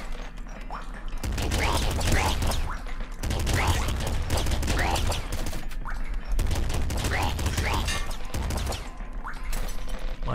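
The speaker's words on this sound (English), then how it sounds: "I will replace the revolver with the machine gun though." Machine gun fire in the video game Nuclear Throne comes in long sustained bursts of rapid shots, loud and dense, with short gaps between them.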